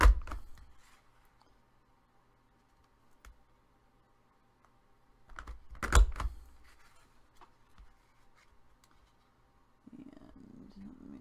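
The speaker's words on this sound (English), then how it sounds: "Now at this point I am going to use a decorative punch and punch down at the bottom." A decorative paper punch presses down through cardstock, giving a few short, sharp clicks and a louder crunch partway through. The sounds are close and otherwise sparse, with quiet pauses between them.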